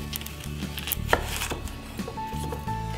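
Knife finely chopping an onion on a board for crock-pot chicken chili, a run of soft, quick, fairly even taps close by, alone with no talking.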